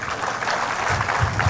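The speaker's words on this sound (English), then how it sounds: "That was a rubbish round of applause." A seminar audience claps in a short round of applause, a dense steady patter of many hands that stays moderate in volume and fairly thin, with no voices over it.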